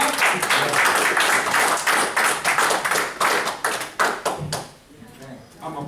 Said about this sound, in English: I'm applauding you guys